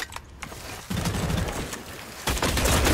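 Rapid gunfire bursts from a shooter video game, loud and dense, with a short lull and then a heavier volley near the end.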